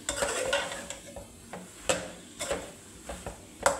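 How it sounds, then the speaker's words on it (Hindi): Ridge gourd sabzi is sautéed with tomatoes and spices, a spoon scraping and knocking the pan in a steady rhythm over a low, continuous sizzle, close and alone without voices. "अब इस तोरी की सब्ज़ी को हमने भूनना है इन टमाटर और मसाले के साथ"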